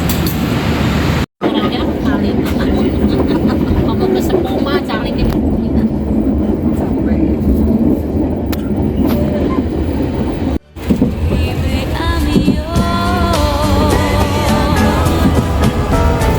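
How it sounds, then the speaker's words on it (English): A train passes close by on an Eid holiday journey, a loud continuous rumble of wheels and carriages with brief gaps, while voices talk over it. "The train is coming."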